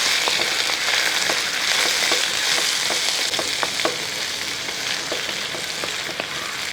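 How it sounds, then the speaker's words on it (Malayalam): Potatoes are stirred into beef curry frying in a pan, making a loud, constant sizzle with a run of scraping spoon strokes and soft knocks spread through it, all close by. "ആ ഉരുളക്കിഴങ്ങ് ഇട്ട് നമുക്കൊന്ന് ഇളക്കി കൊടുക്കാം"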